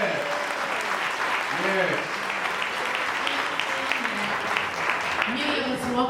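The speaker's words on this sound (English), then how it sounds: "Can we give our panelists another round of applause, please?" Steady audience applause for panelists at a St. Louis empowerment panel discussion, dense and sustained throughout, with a voice speaking over the clapping.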